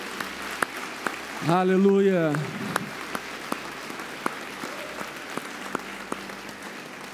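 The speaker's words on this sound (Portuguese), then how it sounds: "Dê uma salva de palmas a Jesus" A church congregation applauds during a worship service, a short burst of clapping that soon thins into scattered claps, while a voice calls out over it.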